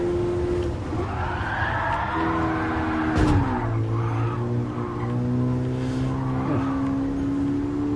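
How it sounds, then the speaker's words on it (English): Race car collision in Gran Turismo Sport, with engine whine and gear-shift pitch drops, a short impact burst midway and tire scrub around it, loud and close without voices. "Wasn't too bad a collision."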